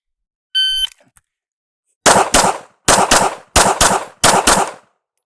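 A pistol fires about five loud, close pairs of rapid shots in quick succession, each double report ringing briefly. A short electronic shot-timer beep sounds first, then a brief pause.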